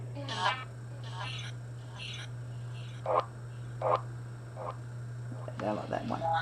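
Choppy, echoing voice fragments from the Necrophonic ghost hunting app with its echo effect switched on, short repeated bursts spaced about a second apart over a steady low electrical hum.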